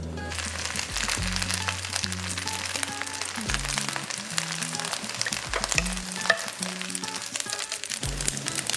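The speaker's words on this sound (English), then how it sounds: "Now we're going to pan fry it and brush some sauce on." Molded dumplings pan-fry in olive oil over medium heat, with a steady close sizzle and crackle that runs unbroken from start to finish.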